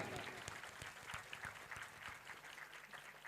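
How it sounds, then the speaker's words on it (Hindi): Audience at a live Shrimad Bhagavat Katha religious gathering applauding, steady crowd clapping with rhythmic individual claps, fairly faint and continuous throughout. "बजा दीजिए बड़े जोरों की ताली ताली।"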